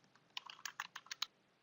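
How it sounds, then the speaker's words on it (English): Quick, uneven clatter of keys typed on a computer keyboard while entering text into a document, close and fairly quiet, about ten distinct keystrokes with no talking. "Now, when I am typing within the document,"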